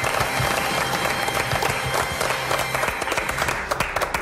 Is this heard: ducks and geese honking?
no